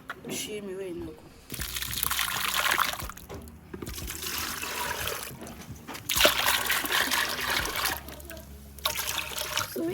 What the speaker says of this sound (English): She just poured in her blended vegetables, ginger, onion, pepper, garlic, and then now adding in her proteins.